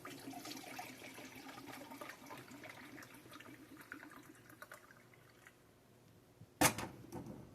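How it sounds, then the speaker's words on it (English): Water pours into a pan of ribs being prepared for a home-cooked dinner, a steady faint trickle for several seconds, tapering off before a brief louder splash near the end. "now let's put some water in there"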